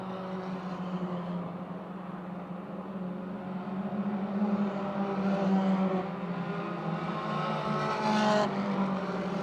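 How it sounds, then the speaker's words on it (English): Race cars lapping the Motordrome Speedway oval, a dense steady roar of several engines at moderate distance, swelling slightly as the pack passes along the front straight, with no talk over it. "They head down the front straight, put a lap on the rookie John Simsick"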